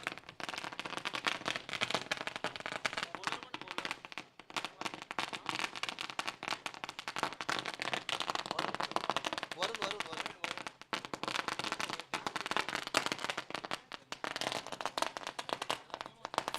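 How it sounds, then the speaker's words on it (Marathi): A dense, continuous string of firecrackers bursts to welcome a guest onto the stage at the Nilje Chashak 2025 event, with rapid crackling pops that rise and fall in intensity while an announcer talks over the noise. "फटाक्याने दादांचं स्वागत या ठिकाणी केलं जात आहे"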